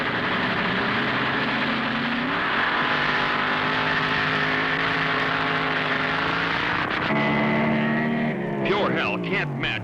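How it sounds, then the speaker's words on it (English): A gas-burning roadster drag car launches on a handicap start at a 1950s–60s drag strip, its engine a loud, sustained roar that climbs in pitch through gear changes, close and dominant throughout. "Leaving first on the handicap start will be the gas-burning roadster of Ron Ellis from Michigan"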